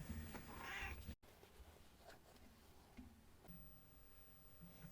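A house cat meows in a room where fabric from a rummage sale is being sorted; a loud drawn-out cry comes first, then quieter room sounds follow.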